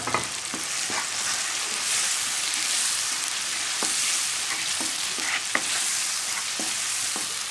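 Minced meat keema with spices sizzles steadily as it fries in a pan, a dense continuous hiss with scattered crackles and soft stirring knocks throughout, close and fairly loud with no talking.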